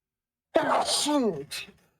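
A single sharp sneeze bursts out close by, followed by a brief trailing breathy sound.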